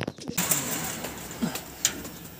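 A racing pigeon gives a soft, low coo close by, quiet and brief against faint background hiss, with a couple of small sharp ticks around it.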